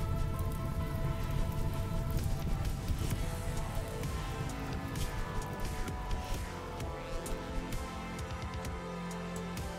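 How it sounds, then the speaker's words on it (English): Steady rain falls throughout in the video game RimWorld, a dense continuous patter with a low rumbling bed and no talking. "And now it starts to rain."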